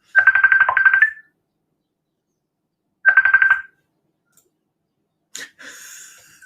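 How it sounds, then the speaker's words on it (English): A phone ringtone sounds twice: a warbling electronic ring for about a second, a pause, then a shorter ring, followed by faint clicks and rustling. "My son was ringing in."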